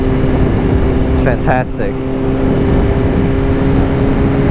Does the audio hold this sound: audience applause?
no